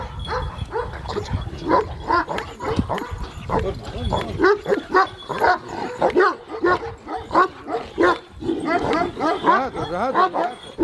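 Kangal dog, a purebred female, barking repeatedly in short bursts with yips and whimpers, close and loud throughout, with people talking in the background.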